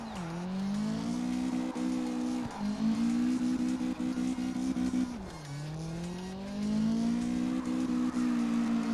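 Engine roars and revs in CarX Drift Racing Online as a car drifts, a loud continuous engine tone rising and dipping in pitch with tire squeal over about nine seconds, no talking.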